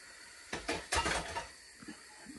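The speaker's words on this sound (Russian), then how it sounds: "Поэтому Денис сейчас посуду помоет, ужин готовить не надо" Dishes being washed, with pots and cutlery clinking in a short burst of clatter followed by a few lighter knocks, close by and without talk.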